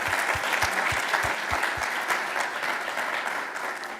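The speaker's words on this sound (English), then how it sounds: "One applause for Norman." Audience at an academic symposium applauds, a loud dense wash of clapping that holds steady throughout, with a few low thumps near the start.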